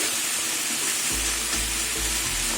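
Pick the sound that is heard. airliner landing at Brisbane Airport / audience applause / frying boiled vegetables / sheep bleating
frying boiled vegetables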